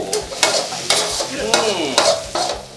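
Sukiyaki fried rice being stir-fried in a pan, a close, loud sizzle punctuated by about six sharp scraping strokes of a spatula in a steady rhythm, with no talk.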